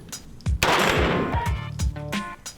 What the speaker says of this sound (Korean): 드디어 사격 실시.